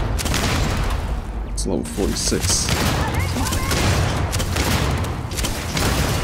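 Grenade launcher firing in the sci-fi game Starfield, dense repeated booms and thumps of gunfire through the clip, with someone talking over the loud combat.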